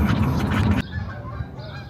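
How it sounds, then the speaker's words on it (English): Seagulls in Newport, Oregon bark and squawk loudly in a dense overlapping chorus that cuts off abruptly, leaving faint outdoor ambience behind. "These seagulls were barking"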